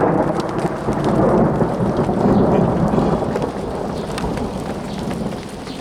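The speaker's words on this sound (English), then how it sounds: "See what this rain's like." Steady heavy rain falls outdoors during a thunderstorm at a backpacking tent site, a dense continuous hiss with low rumbling underneath, fairly loud and unbroken with no voices.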